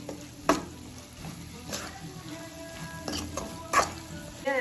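Okra curry masala sizzles in a pan on a gas stove, with a steady frying hiss and a few distinct scraping stirs of a spoon against the pan, heard close up.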